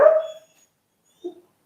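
A dog gives one short, loud bark, followed about a second later by a quieter, brief yip.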